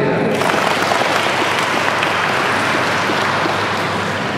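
A group of university students at an outbound training event claps together in a loud, continuous burst of applause, the close, dense clapping holding steady for about four seconds.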